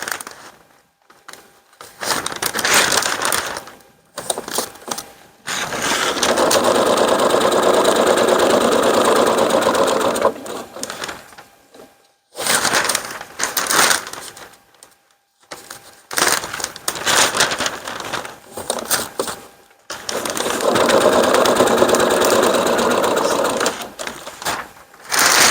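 A sewing machine stitches ripstop fabric in loud, sustained bursts of whirring, stopping and restarting several times with short pauses between runs.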